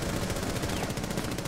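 Rapid automatic gunfire in Rainbow Six Siege rattles off as a quick, continuous burst of evenly spaced shots, fairly loud and sustained across the short moment.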